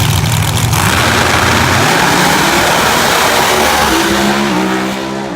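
Supercharged drag racing cars revving at Maryland International Raceway, a loud roaring engine drone with rising and falling revs that fades slightly at the end, no voices.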